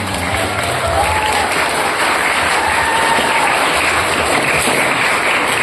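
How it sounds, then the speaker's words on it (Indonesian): Loud, sustained applause from a crowd at an Islamic school's Isra Mi'raj commemoration, students of a state madrasah clapping continuously and evenly with no pauses. "Tepuk tangan untuk kalian semua"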